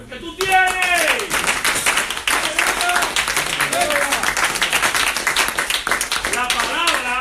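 A church congregation claps loudly and steadily for several seconds, with a voice preaching over the applause throughout.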